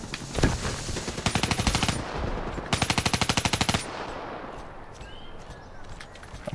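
Rapid automatic gunfire in a video game, two loud sustained bursts of evenly spaced shots, each about a second long, preceded by a single sharp report and followed by quieter ambient game sound.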